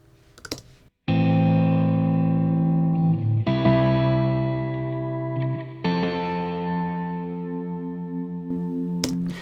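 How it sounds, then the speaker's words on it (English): A BOSS RE-202 delay pedal with stereo reverb turns sustained synth-like tones into echoing repeats, each note ringing out and trailing smoothly into the next, clear and upfront with no talking. "now let's bring in the echo"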